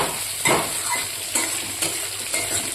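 Fried eggplant is sautéed with turmeric and chili paste in a pan, a steady close sizzle broken by several scraping stirring strokes at irregular intervals, with no voices.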